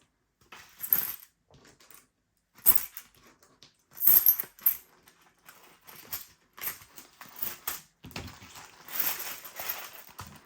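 Silver and copper coins clink and jingle as they are dropped into a cash envelope binder, in several short, quiet bursts of metallic rattling with no talking.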